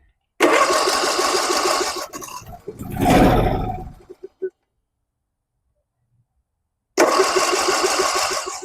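A 2021 John Deere S120 lawn tractor engine, damaged by salt water and starved of steady fuel, roars loudly up close. It sputters out, goes silent for several seconds, then catches again and runs at full volume.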